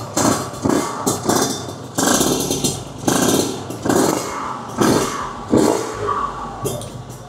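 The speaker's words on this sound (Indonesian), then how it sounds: "Pas pakai ini lebih galak lah motornya." A Kawasaki Ninja motorcycle engine with a loud, aggressive aftermarket exhaust revs in repeated bursts, rising and falling roughly every second, close by.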